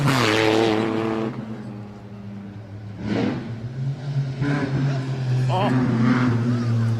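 A Lancia Stratos rally car fitted with an Alfa Romeo GTV6 engine, at a Targa Tasmania event in George Town, revs loudly and close, with rising and falling engine pitch across several blips, while a man exclaims briefly over it.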